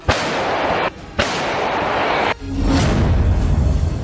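Several heavy artillery shells from Russian troops explode one after another on an enemy position, each a loud, sustained blast with a long rumbling tail, the last one sinking into a deep low roar.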